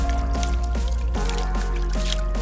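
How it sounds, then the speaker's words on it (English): Water splashing and dripping into a big toy truck, wet squishy drips repeating steadily for a couple of seconds over a low steady hum and background music tones. "So now I put some water in this big truck"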